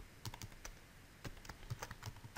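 Computer keyboard keys clattered in quick irregular bursts while code is typed into a method body, a close, fairly soft run of clicks with no talking.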